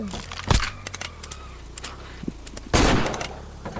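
Gunfire in the Roblox game Block Spin: two loud shots stand apart, one early and one longer blast later, with small clicks and ticks scattered between and brief voices mixed in.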